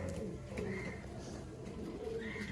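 Pigeons kept for sale cooing softly in repeated low calls, fairly faint against a murmuring background, with a few higher chirps mixed in.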